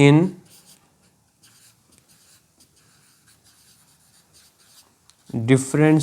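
Marker or chalk strokes on a board while working a Class 10 current electricity physics problem: soft, scratchy writing runs quietly through the middle, with a voice talking at the start and end.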